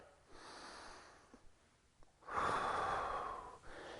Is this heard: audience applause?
no